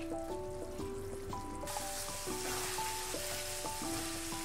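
A dried fish and potato curry simmers down to thicken its gravy, giving a steady soft bubbling and sizzle with faint drips close by, while tonal kitchen hum runs underneath and no one speaks.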